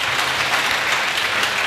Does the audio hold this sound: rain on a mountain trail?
no